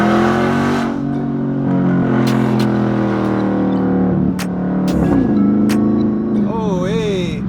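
A 2019 Dodge Charger Scat Pack with its mid muffler and resonator deleted drones loudly from its exhaust while driving, with engine pitch rising and falling and a brief voice near the end.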